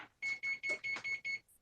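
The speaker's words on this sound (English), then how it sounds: "sorry for the beep" Six evenly spaced electronic beeps, sharp and high-pitched, sound close by in a quick steady rhythm, like a kitchen timer or alarm.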